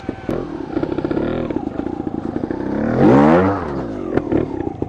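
A 2022 Vertigo Nitro 300 motorcycle engine idles roughly, then revs up sharply and accelerates in first gear, pitch rising and falling, loud and close.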